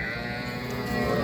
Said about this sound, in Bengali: শাহিওয়াল বাছুর।